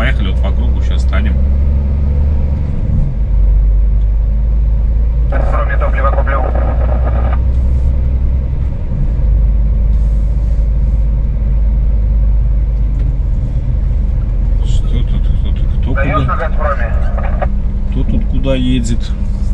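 Car cruising along a circular route, a steady low engine and road rumble running throughout with brief louder swells, while people talk inside the cabin.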